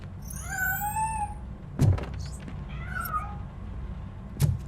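Cat meowing in the video game RoboCop: Rogue City, with two drawn-out meows in close succession and a couple of dull thuds between and after them, heard without talk.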